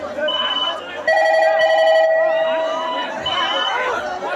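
A telephone rings with a repeated electronic ringtone pattern during a stage drama performance, fairly loud over background chatter and crowd noise.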